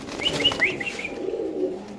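Iranian pigeons coo softly nearby, low murmuring calls with a few short, higher chirping notes early on, against a quiet background.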